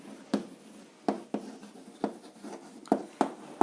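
Pen or chalk writing out a maths question, a series of short scratchy strokes at an uneven pace, close and clear, alone without talk.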